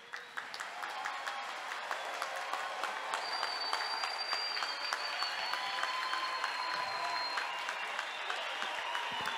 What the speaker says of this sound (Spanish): pido a todos los presentes un fuerte aplauso para ellos.